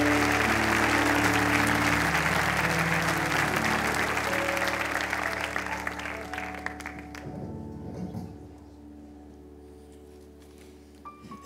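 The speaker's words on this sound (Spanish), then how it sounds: "Así que recibimos a los hijos de Juan Carlos ahora con el mismo aplauso y la misma alegría de celebrar la vida." At a celebration-of-life memorial in an arena, a crowd claps loudly and steadily, then the applause gradually thins and fades out over several seconds, leaving a faint hum and a few scattered claps.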